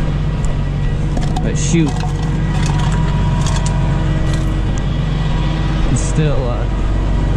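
Steady road rumble and engine drone from a tow truck hauling a damaged box truck down a main highway, continuous under intermittent talk in the cab.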